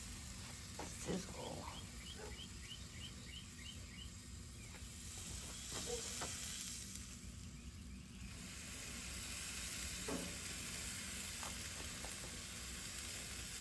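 Marinated chicken, smoked sausage and vegetable kabobs sizzling on a grill, a quiet continuous hiss and crackle heard up close with no talking.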